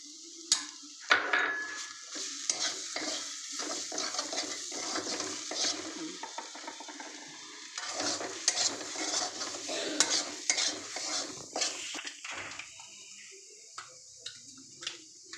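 A homemade masala of cumin, coriander, garam masala, cinnamon, cardamom and cloves being stirred into a frying pan, close sizzling broken by repeated metal spatula scrapes and clinks, uneven bursts of stirring with short pauses, no voices.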